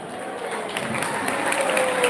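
Applause from an audience at a devotional Gaur Purnima talk, a steady wash of clapping that builds slightly over two seconds, moderately loud with no voices over it.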